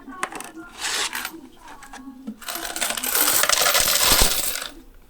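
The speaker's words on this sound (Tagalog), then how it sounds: "Ubusin niya lahat ng barya dito sa loob." An advance coin counter sorts coins, with bursts of dense metallic clinking and rattling that build into a loud continuous rush before fading out, close by and without talking.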